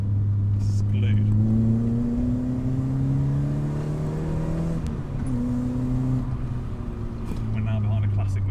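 A Peugeot 205 GTI accelerates from inside the cabin, with engine tone rising through the gears, dropping at shifts and climbing again, while a person talks over the drone.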